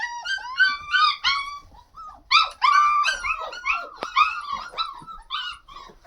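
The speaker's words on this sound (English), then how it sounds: "Wow, puppies." A litter of ten young puppies whimpers and yips close by in a rapid, overlapping series of high, squeaky cries with short pauses, with no one talking.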